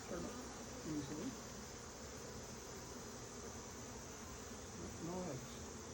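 Bees buzz faintly around an open beehive, a soft continuous hum with a few brief louder passes close by.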